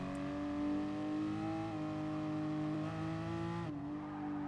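A race car engine in Gran Turismo Sport on the Nürburgring Nordschleife holds a loud, sustained drone, its pitch wavering slightly as the throttle eases on and off, then shifting abruptly near the end.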